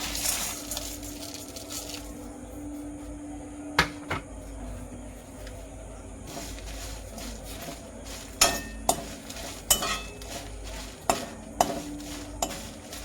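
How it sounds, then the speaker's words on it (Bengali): Dried red chillies, cumin and black pepper dry roasting in a bare pan, a soft dry rustle broken by sharp metallic clinks of a spoon scraping the pan, irregular at first, then a quicker run of knocks near the end. "এগুলোকে এখন শুকনো খোলায় ভেজে নেব"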